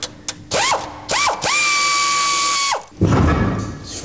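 A power tool revs in short bursts and then runs a long sustained whine while removing bolts from a car's suspension after the anti-roll bar and radius arms are out, loud and close, with a clunk as it stops.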